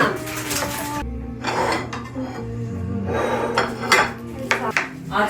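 A knife cuts pineapple on a cutting board in a home kitchen during party preparation, with clattering kitchen utensil and dish sounds, a few sharp knocks and scrapes against the board, and faint background talk.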